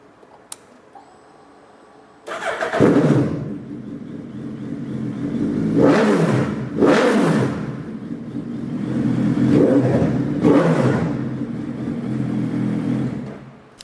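A mostly stock 2017 Suzuki Hayabusa GSX-R 1300 motorcycle fires up after a quiet moment and settles into a loud idle, then the engine is blipped in several sharp revs: two close together, a pause, then two more, heard up close.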